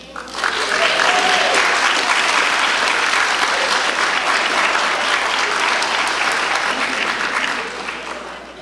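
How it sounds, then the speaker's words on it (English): Sustained applause from a graduation ceremony audience cheering for the graduates, a dense steady clapping wash that swells in quickly, holds for several seconds and tapers slightly at the end. "let's have another round of applause for all of the graduates"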